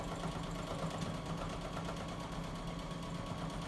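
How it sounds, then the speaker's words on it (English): A sewing machine stitches a buttonhole, giving a steady, continuous mechanical whir with a fine rapid vibration throughout, close and even in level, with no voices. "so it's making the buttonhole"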